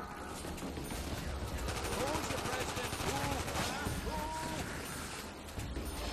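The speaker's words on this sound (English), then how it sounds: "You already got a ray gun?" Ray gun firing in a video game zombies mode, rapid repeated shots with whooshing sweeping tones over dense battle noise, fairly faint, with voices talking throughout.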